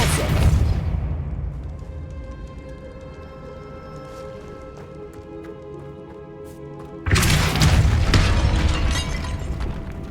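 In Hogwarts Legacy, a Depulso spell blasts objects away with a loud booming burst at the start. A sustained musical tone rings under it, and a second heavy impact lands near the end.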